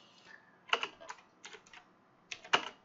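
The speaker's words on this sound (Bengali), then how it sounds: "এই জন্য আমি এন্টার দিচ্ছি মানে লাইনগুলো নিচে নিচে আসবে" Keys on a computer keyboard are tapped in small, irregular clusters of close, crisp clicks, ending with a firmer press of the Enter key, with quiet pauses between the bursts.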